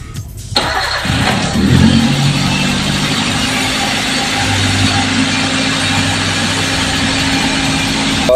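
A Toyota Avanza engine starts and settles into a steady, fast idle around 1200-1300 rpm from a faulty throttle body, a loud continuous hum with no voices.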